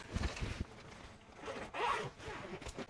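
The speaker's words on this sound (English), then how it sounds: "and then it's got a zipper." A zipper is pulled along the pocket of a Temu bag, close and crisp, in a few quick rasping strokes with a longer drag in the middle.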